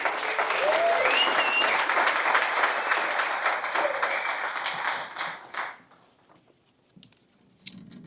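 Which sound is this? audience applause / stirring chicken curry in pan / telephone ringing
audience applause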